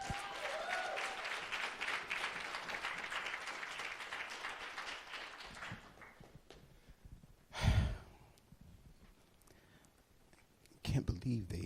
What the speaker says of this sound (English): give a round of applause to Troy